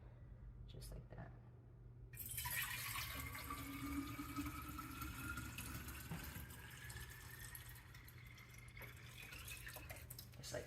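Water pours from a container straight into a sink, a continuous faint splashing and gurgling stream whose pitch rises as it runs, over a low background hum.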